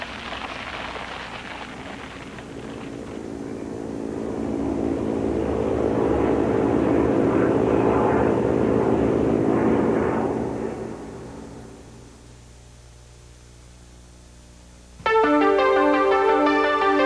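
A propeller airplane engine drones steadily, swelling louder mid-way as the aircraft passes close, then fading to a low hum before music abruptly cuts in.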